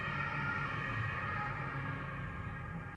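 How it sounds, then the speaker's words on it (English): An ambulance siren wails steadily at a moderate distance in Paris, holding a wavering tone over low traffic rumble for the whole stretch before fading slightly. "Oh, ambulance."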